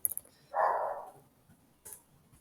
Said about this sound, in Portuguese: Vocês ouvirem um cachorro aí, é porque